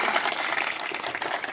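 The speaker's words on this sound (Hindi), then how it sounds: "इसलिए एक बार जोरदार ताली बजा के" Crowd applause at a BJP election rally in Mahadeva, a dense, steady wash of many hands clapping at once, loud and continuous with no break.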